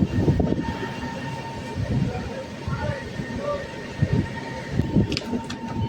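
A freight train rolls near the Gandhidham marshalling yard in the early morning, giving a continuous rail rumble with irregular knocks and clanks while a voice talks over it.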